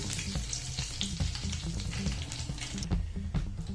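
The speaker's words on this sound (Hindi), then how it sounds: "जीरे ने पॉप करना शुरू कर दिया है" Royal cumin seeds popping in hot ghee, a close, busy crackle of small pops and spatters over a continuous sizzle, with light stirring knocks.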